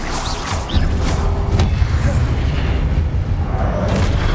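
Casting the Confringo blast spell in Hogwarts Legacy sets off a loud, continuous rumbling explosive roar, with booming thuds and crackling debris layered through the combat action.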